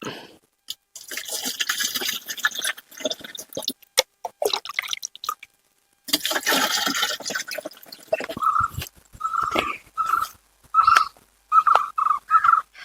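Liquid organic fertilizer for red spinach being poured into a container outdoors, heard as a run of short, close dripping and splashing pulses that grow more distinct and rhythmic toward the end, with some broader rustling noise earlier.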